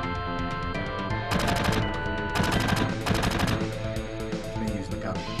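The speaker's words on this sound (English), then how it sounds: "Me using the gun." Rapid bursts of automatic gunfire from Rufus's gun in the video game Final Fantasy 7, loud repeated volleys in a few separate runs over steady background game music.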